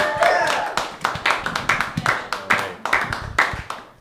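A small, intimate comedy open mic crowd applauding a comedian with sparse, distinct individual hand claps that come in uneven bursts, nearby and fairly loud, rather than a dense roar.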